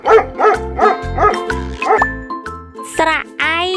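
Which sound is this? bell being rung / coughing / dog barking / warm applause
dog barking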